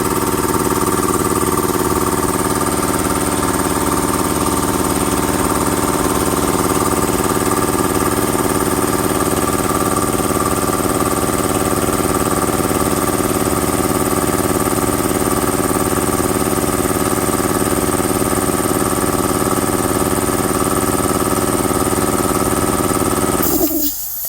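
Air compressor running steadily and loudly close by while building pressure, a constant motor drone with even hum that cuts off abruptly at the very end.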